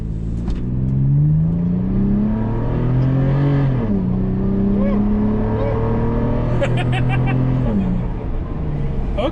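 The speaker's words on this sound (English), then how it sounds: "we're both going to put our foot to a floor for about 4 seconds, Matt, just to feel the power" An SUV engine, on snowy off-road ground, accelerates at full throttle from a stop, its loud rising drone climbing and shifting pitch for several seconds.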